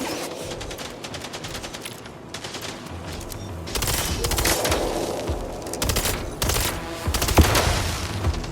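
Sustained automatic gunfire aimed at combat bots in the action game MindsEye, quieter at first and then swelling into loud, rapid volleys with heavy impacts near the end.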